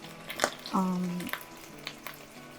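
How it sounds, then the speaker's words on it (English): Chicken sautés faintly in a hot frying pan for oyakodon beneath clinks and scraping of utensils, with a brief tonal hum in the middle. "Saute the meat on this side a little"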